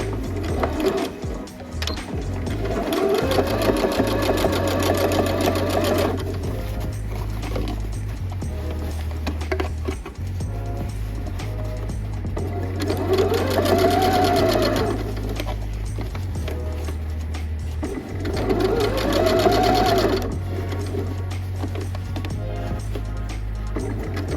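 A home sewing machine runs in steady rapid bursts while understitching a denim dress, its motor hum and needle clatter rising and pausing three times, close and without speech.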